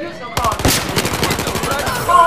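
Rapid three-round-burst gunfire in the video game Battlefield 4, played on the Golmud Railway map, cracks out in quick repeated bursts, loud and close, with no speech over it.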